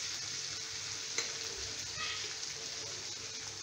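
Cumin seeds sizzling in hot ghee for a mixed vegetable dish, a quiet, even crackling fry with one small tap of a spoon, close and without voices.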